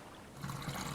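Fuel pours out of a barrel in Stranded Deep, a short, close, liquid trickling and gurgling that grows slightly louder over one second, with no voices.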